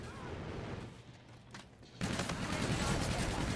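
Dense gunfire and explosions from the Infinite Warfare beta shooter game, steady at first, then louder and busier after a sudden jump midway, with a player's voice mixed in at times.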